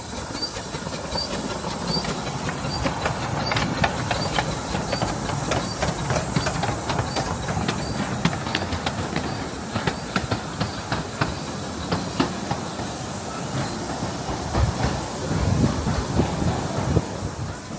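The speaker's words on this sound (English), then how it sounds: "A train has just pulled into the Network Rail station actually" A Class 156 diesel train at a Network Rail station hums and rumbles steadily nearby, with hissing and light clicking over a continuous engine drone.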